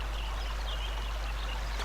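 A brook in a video game flows steadily, a constant close wash of running, trickling water with no pauses and no talk.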